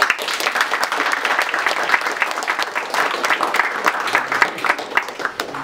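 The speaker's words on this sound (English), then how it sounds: "So let's give them a round of applause" A church congregation applauds after new members join the church family, a steady wash of many hands clapping close and fairly loud, sustained throughout without talk.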